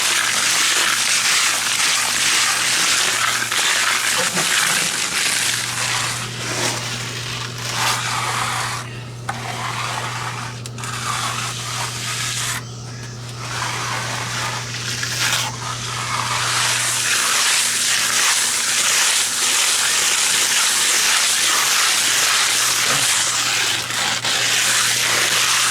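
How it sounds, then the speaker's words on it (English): A plastic trowel rubs over a sand finish stucco wall, a continuous gritty scraping rasp with rhythmic strokes, loud and close, beneath a steady low hum. "Rub it with the plastic trowel."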